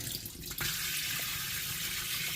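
Water runs from a tap attachment in a home, a steady close hiss of flowing water that starts with a soft spurt and then pours continuously.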